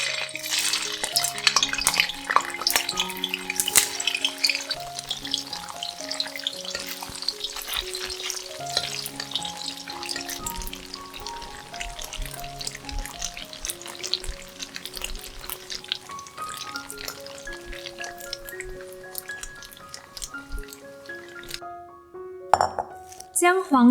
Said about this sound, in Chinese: 倒入适量的油，待油热后放入豆干，炸至金黄色后取出